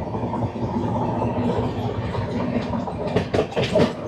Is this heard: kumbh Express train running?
yes